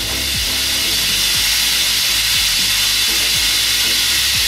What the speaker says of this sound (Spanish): ¿Escucháis y veis que ya sale el vapor?